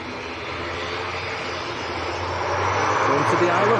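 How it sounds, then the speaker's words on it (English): A Logan Air ATR turboprop departing Manchester Airport for the Isle of Man hums and drones with a propeller throb, growing steadily louder over a few seconds while a voice talks over it. "Logan Air ATR next to go."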